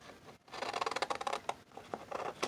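Scissors snipping through paper while cutting out a valentine card, a close run of quick, crisp cuts with short pauses between bursts.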